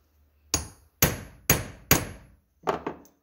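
A hammer strikes a rivet set to dome a nickel-headed rivet, giving six crisp metallic taps close by: four evenly spaced blows followed by a quick lighter pair, each ringing briefly in an otherwise quiet room.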